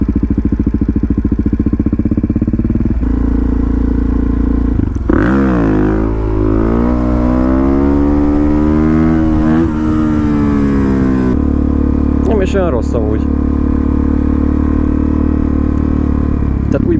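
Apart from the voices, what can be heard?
motorcycle engine while riding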